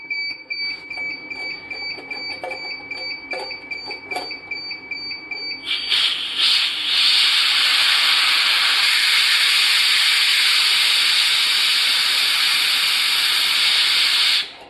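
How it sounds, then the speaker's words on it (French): Steam bursts loudly from an autoclave pressure valve released at about 105 degrees, a sustained near hiss lasting roughly nine seconds, preceded by quieter electronic beeping alarm tones. "là on voyait un peu de la vapeur, j'imagine que c'était le bon moment pour lâcher la soupape"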